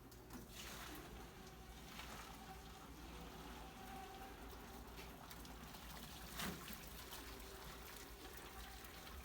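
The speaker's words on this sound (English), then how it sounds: "So I'm gonna pour it in the strainer." Cooked noodles and their water pour from a pot into a kitchen strainer, a steady splashing trickle that runs for several seconds with a brief louder gush near the end, no one talking.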